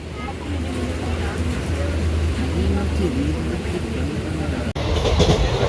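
A train pulls into Tirur railway station with a steady low rumble and rail noise that runs throughout. A voice is faintly audible, and a brief sharp dropout occurs near the end.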